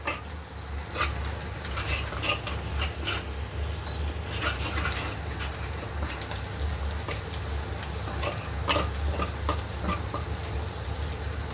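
Garlic sautéing in a pan until fragrant, for tofu stuffed with vegetables and shrimp: a continuous close frying sizzle with crackling bursts and occasional spatula stirs, holding steady throughout.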